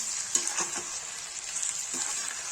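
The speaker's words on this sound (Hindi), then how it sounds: "लहसुन का पेस्ट, चला देंगे।" Ground onion and garlic paste fry in a pan for a potato and parwal dish and are stirred, a continuous bright sizzle with a few soft scraping strokes of the spoon.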